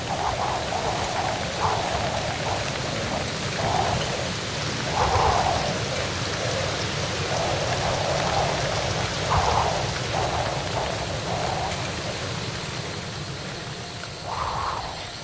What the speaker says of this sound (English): The long drought of February to May ended with violent, cleansing storms, drenching everything.